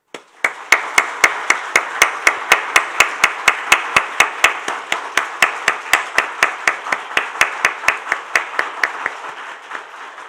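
A church congregation claps together during a Sunday sermon in a steady, even rhythm, about three or four sharp claps per second, sustained for around ten seconds.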